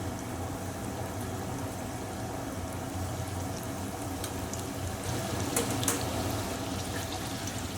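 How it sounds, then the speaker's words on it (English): Breaded chicken katsu fries in hot oil in a pan, giving a steady, dense sizzle and crackle that holds at an even level throughout, with a few sharper spits near the end. "And you want it to start sizzling like that straight away."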